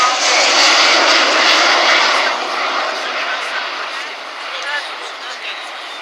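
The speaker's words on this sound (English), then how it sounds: "the aircraft's going to come past us, and this is in landing configuration, just above landing speed" Loud, continuous roar of a Boeing 727 jet at an airshow passing close by in landing configuration just above landing speed, the broad engine noise swelling and then slowly fading as it moves away.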